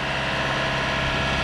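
A sailing yacht's engine runs at modest revs on a passage between Bermuda and the Azores, giving a steady, continuous mid-to-low drone with even loudness and no talk over it.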